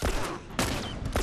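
Gunfire in The Last of Us Remastered cracks out in three loud, close shots about half a second apart, each with a brief echoing tail.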